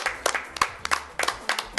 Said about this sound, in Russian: Под ваши и наши аплодисменты.